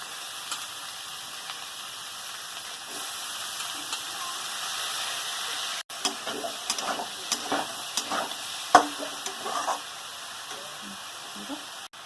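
Potato and brinjal pieces sizzle in hot oil as a spoon scrapes and stirs them, steady frying hiss underneath with a run of sharper clinks and scrapes in the second half, close and moderately loud.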